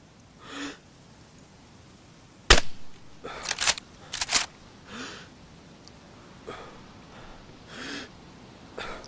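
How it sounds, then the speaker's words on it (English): Gunfire in the DayZ video game on PS5: one sharp, loud shot, followed by a few quicker, close bursts of shots, with quieter breathy noises between them. "I just shot at one of them"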